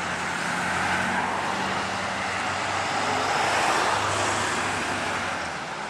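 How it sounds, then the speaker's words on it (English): Traffic on the coast highway beside the monarch butterfly grove at Pismo State Beach, California, makes a continuous moderate roar of passing cars and trucks, swelling slightly midway and easing off at the end. "the main coast highway runs right through the grove."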